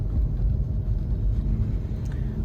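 A car drives through a snowstorm in Ottawa, its engine and tire rumble a steady, close, continuous drone with no talk over it.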